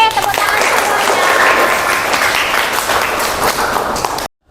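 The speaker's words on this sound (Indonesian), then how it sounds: "Oke, tepuk tangan semuanya." In a university teaching-practice classroom session, students give steady, fairly loud applause for their classmates, with a voice faintly mixed in, before the sound cuts off abruptly.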